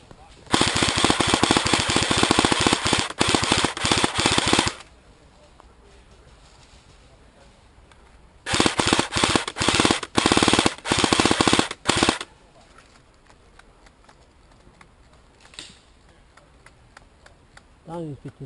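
Rapid machine-gun fire in two long loud bursts separated by a quieter gap, then a few scattered distant shots.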